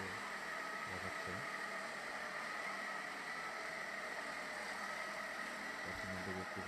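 A car engine runs quietly during a driving test as the vehicle is reversed, a faint, low, steady hum close to idle with a slight rise near the end.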